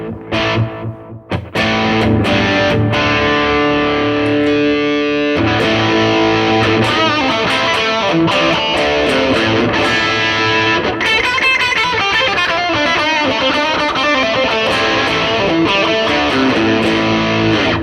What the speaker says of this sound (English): we're on tape echo at the moment.